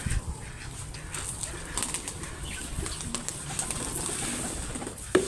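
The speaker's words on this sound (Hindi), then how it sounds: "सबसे पहले जो है कबूतरों को बाजरा डालते हैं ताकि जो हमारे कबूतर खा लें" Pigeons feed on scattered millet nearby, with faint pecking, soft coos and brief bursts of wing flapping over a quiet outdoor background.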